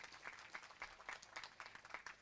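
Audience applause for a speaker after a comedy speech on stage, a faint, steady patter of clapping with rhythmic claps from a crowd throughout.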